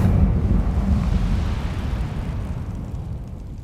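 A fire spell cast in the Hogwarts Legacy video game, a loud rumbling burst that swells up at once and slowly fades out over a few seconds.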